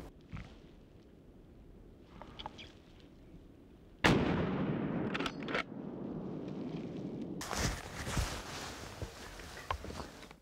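A single loud rifle shot cracks out during a driven wild boar hunt and rolls away as a long outdoor echo, followed by rustling and movement, then another burst of noise near the end.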